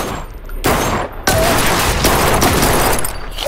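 Loud, rapid gunfire from the shooter game Blue Estate crackles almost without pause, the shots overlapping into a dense, continuous barrage.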